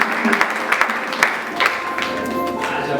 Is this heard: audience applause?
yes